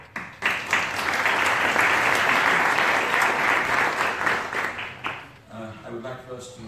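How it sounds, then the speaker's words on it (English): Conference audience applauding Syrian doctors and paramedics at a health-system meeting in Geneva, a sustained dense round of clapping that fades after about five seconds into a single voice speaking. "and I ask you all to applaud them all"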